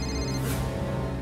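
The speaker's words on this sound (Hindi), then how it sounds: "सोनू का फोन।" A phone ringtone plays as Sonu calls, a steady electronic tone that holds at moderate volume for just over a second with no voices over it.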